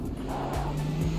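A BMW race car in a racing video game, its engine holding a steady droning note that shifts pitch as it drives, brief and without talk.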